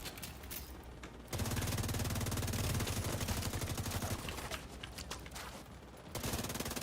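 Rapid bursts of automated turret fire in a video game, a dense rattling stream that starts abruptly, runs steadily for a few seconds, then trails off before resuming briefly; no talking.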